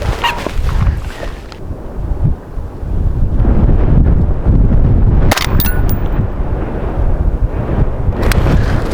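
A rifle fires a single sharp, loud shot at a long-range target outdoors, with a ringing metallic report over steady wind noise buffeting the microphone.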